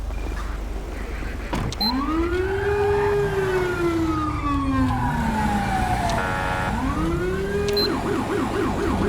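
A loud police siren on a 2016 Chevrolet Caprice PPV in the video game GTA V wails in long rising and falling sweeps, then switches to a rapid yelp near the end, over steady engine rumble.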